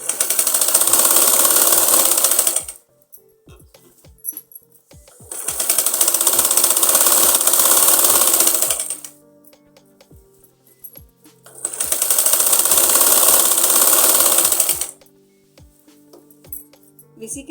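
A sewing machine stitches the armhole of an umbrella frock in three bursts of a few seconds each, loud and whirring, with quiet pauses and small clicks between runs.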